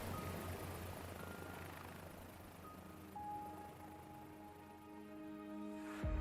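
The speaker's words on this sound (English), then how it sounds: "now you got helicopters and stuff." A helicopter hovers near an offshore oil rig in a video game trailer, its low rotor drone steady throughout, with a rising whine and a sudden loud impact right at the end.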